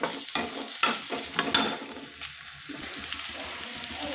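Onion and green chilies fry in hot oil with a constant close sizzle, broken by a few sharp stirring scrapes and clinks early on before settling into steady crackling.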